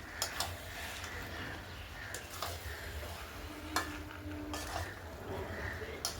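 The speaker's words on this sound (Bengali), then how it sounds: "লবণটা দিয়ে ভালো করে মাংসটাকে কষিয়ে নিতে হবে" Chicken pieces stir-fried with salt in a pan, a soft crackling sizzle under scattered metal scrapes and utensil clinks against the pan, fairly quiet and close.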